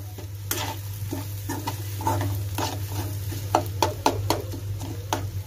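Egg bhurji mixture being stirred in a frying pan, a steady low sizzle under repeated scraping and tapping strokes of the spatula, close and uneven in rhythm, with no talking.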